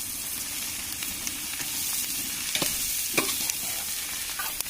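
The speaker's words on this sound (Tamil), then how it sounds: "இப்போ நல்லா கிளறி விட்டுப்போம்" Egg podimas with drumstick leaves being stirred in an oiled pan, a constant hissing sizzle with occasional soft scrapes and clinks from the utensil, close and steady with no voices.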